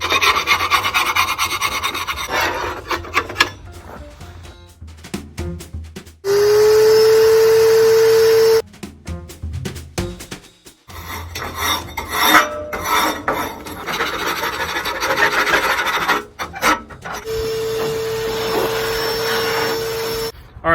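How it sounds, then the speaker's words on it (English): Scraping out the inside of an outdoor wood boiler, a loud, continuous raspy metal-on-metal scraping in long strokes, broken by short pauses and a steady whining drone, with no talking. "All right, so I got everything scraped out"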